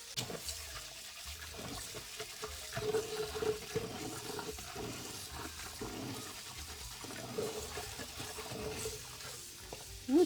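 Lentils being rinsed in water by hand before pressure cooking, giving a steady sloshing and trickling of water that stays moderately quiet and continuous, with occasional small splashes and no talking.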